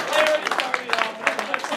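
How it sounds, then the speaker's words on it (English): Audience at an improv comedy show breaks into applause, a scattered burst of clapping with crowd noise and a voice over it, thinning into uneven claps. "give him a round of applause"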